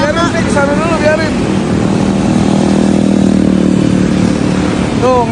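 A motorcycle engine runs steadily close by, its broad rumble continuous throughout, while people talk over it.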